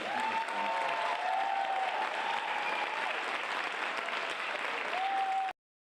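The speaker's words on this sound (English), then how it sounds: "let's give him a round of applause for all" A theater audience at a season announcement claps in a dense, sustained burst of applause, loud and even, with some vocal cheering mixed in before it cuts off abruptly.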